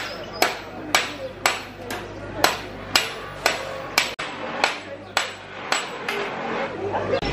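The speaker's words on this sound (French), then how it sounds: "elle est hyper connue pour les guinandiers et les chaudronniers qui travaillent le cuivre et le laiton." Coppersmiths beating copper and brass with hammers in Place Seffarine, a metalworkers' square in the Fez medina, strike in a steady series of about a dozen sharp, ringing metallic blows, fairly close, over a low murmur of market chatter.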